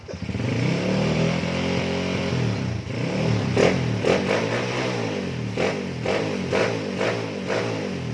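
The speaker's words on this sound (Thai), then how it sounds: "ถ้าเร่งเป็นจังหวะเงี้ยไม่ดับหรอกนะครับ" A Honda Wave 125 motorcycle with a newly assembled carburetor idles and then revs in short rhythmic blips, a loud, close, buzzing single-cylinder engine running on its own.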